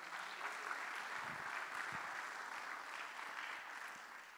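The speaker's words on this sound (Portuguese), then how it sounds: "Salva de palmas aí para a Araucária," Audience applause at a conference, a steady dense wash of many hands clapping from a large crowd, heard at moderate distance and fairly quiet throughout without talk.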